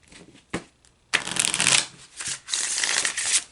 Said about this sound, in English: I shuffle the cards about 5 times.